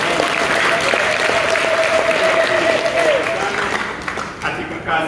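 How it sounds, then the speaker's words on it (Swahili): A crowd claps loudly and continuously for the Mgeza school workers at a church prayer service, the dense applause fading slightly near the end. "Makofi mengi kwetu"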